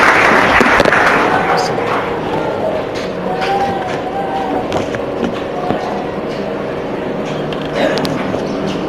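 A French-speaking church congregation applauds with loud, dense, crackling clapping and crowd noise, while voices carry on over the top throughout.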